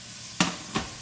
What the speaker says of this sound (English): bacon fried up real quick